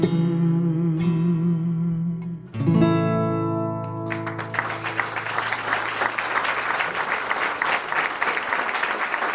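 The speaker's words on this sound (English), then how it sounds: "Thanks for doing the clapping" Audience applause at a live concert at the Ark in Ann Arbor, Michigan, starting just after sustained guitar chords ring out and swelling into dense, steady clapping from a full room that continues to the end.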